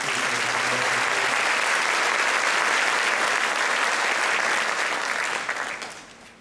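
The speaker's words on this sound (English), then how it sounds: "Let's give another round of applause for these" A crowd applauds at a high school athletic awards ceremony, a thick steady roar of many clapping hands that holds evenly and then fades out over the final second.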